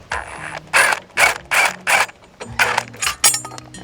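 A ratchet wrench loosens the crash bar bolts on a Suzuki Boulevard C50T motorcycle. Seven or eight loud, evenly spaced bursts of rapid clicking are heard up close.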